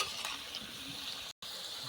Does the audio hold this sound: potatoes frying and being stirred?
yes